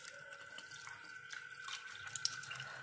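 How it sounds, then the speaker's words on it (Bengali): Tap water running steadily into a sink while meat is being washed, faint and continuous with light splashing that grows slightly toward the end. "যতক্ষণ না পর্যন্ত জলটা একদম একটু সাদা সাদা লাগছে আর মাংসগুলোকে একটু ঠিকঠাক মতন লাগছে, ততক্ষণ পর্যন্ত আমি ধুয়েই যাবো।"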